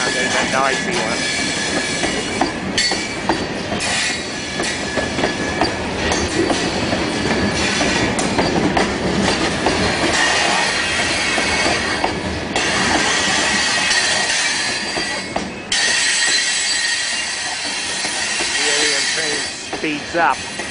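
A train in the video game Space Alien Train rumbles past loudly and continuously, with wheel squeal and clattering running through the whole stretch.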